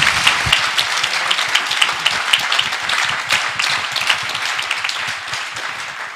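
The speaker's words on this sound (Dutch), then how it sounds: "Geef de broeders en zusters die geven een flink applaus." Church congregation giving a hearty round of applause, dense, close clapping that fills the whole stretch and eases off slightly toward the end.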